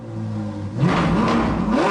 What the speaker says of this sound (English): So I have this acceleration sound effect, and because these guys are sport cars, this will do nicely.